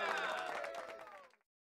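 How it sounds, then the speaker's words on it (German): Short, restrained burst of crowd applause in the Schlag den Star 2 game show video game on Switch, fading quickly into silence. "Der Applaus ist sehr verhalten."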